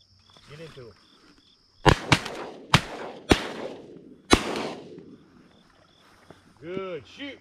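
About five sharp shotgun blasts ring out in quick succession at teal during a delta duck hunt, loud and close, each trailing off in a short echo, with quiet calling before and after.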